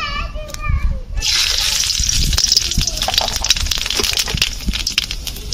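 Black cumin seeds crackle and sizzle loudly in hot oil with lightly fried chillies, a steady bright hiss with scattered pops, following a short stretch of speech at the start.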